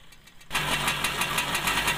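A Super XL motorbike engine with its carburetor air screw locked starts up abruptly and runs with a rough, knocking, pulsing note that stays at a limited, steady rpm, close and fairly loud.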